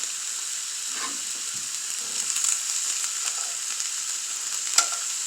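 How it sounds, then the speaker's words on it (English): Beef pieces searing in a hot pan over medium heat, a steady bright sizzle running continuously with a few small pops and crackles, close and fairly loud with no talking. "you want to sear it"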